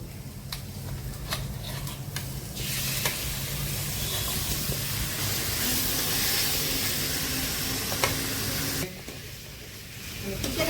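Chicken goes into a pan of sautéed onions and sends up a loud, sustained hiss and sizzle that holds steady for several seconds. It then drops off abruptly near the end. Scattered stirring clicks come before it.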